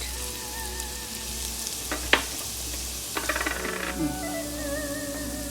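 Chopped spring onion and carrot with garlic stir-fry for a Chinese vegetable sizzler, a steady close sizzle broken by a few utensil clatters and scraping bursts.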